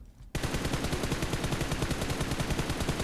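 Rapid automatic gunfire from PUBG Mobile bursts in after a brief quiet moment and keeps up a dense, steady rattle of loud shots to the end, with no talking.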